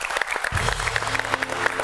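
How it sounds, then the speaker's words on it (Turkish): Applause from a studio audience for Orhan Gencebay during a Turkish television interview, a brief burst of dense clapping that swells partway through, with a low background hum and no talk. "kocaman bir alkış Orhan Gencebay'a"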